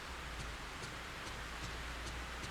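Steady hiss of rain falling continuously in the video game Fatal Frame 3: The Tormented, with faint soft ticks of drops scattered through it.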